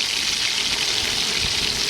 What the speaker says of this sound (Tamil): நம்ம வச்சுருக்க மாவு ஒவ்வொன்றா எண்ணெயில் போட்டு பொரிச்சிடுங்க